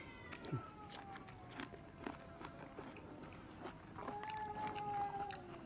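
A faint, thin meow from a young kitten, with soft crunching sounds and low background noise around it.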